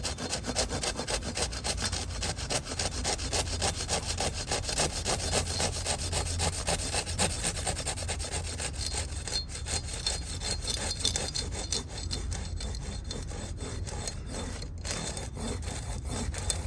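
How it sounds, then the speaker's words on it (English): A Silky pruning saw cuts through a branch of a large trident maple bonsai, giving steady rapid rasping strokes that run close and loud for the whole stretch with no talking. "Okay, silky, we're going to cut that off."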